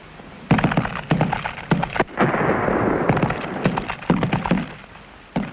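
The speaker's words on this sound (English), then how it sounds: "A team with a 66mm anti-tank rocket is ready to deal the deadly blow." A 66mm anti-tank rocket is fired at an enemy vehicle in a battlefield exercise, heard as loud sharp cracks and a rumbling blast, followed by a string of further booming reports that echo nearby.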